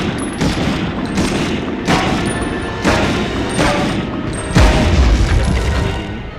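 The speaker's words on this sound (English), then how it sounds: "You see these gas cans? We can shoot those," Gas cans are shot and explode in the PS1 game Medal of Honor, giving a run of loud booming blasts mixed with gunfire and crashing debris, several heavy hits spaced about a second apart with a deeper rumble near the end.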